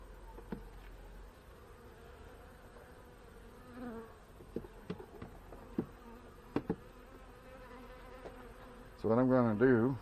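A low, steady hum of buzzing honey bees in hive boxes with scattered soft knocks, ending with a louder, close buzzing burst.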